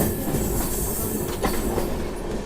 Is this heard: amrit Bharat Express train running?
yes